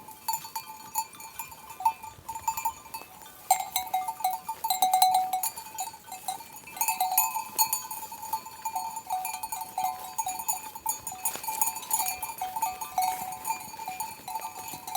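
Animal bells clink continuously across an open space, with faint, distant bleats from a grazing flock of sheep and lambs in a village pasture.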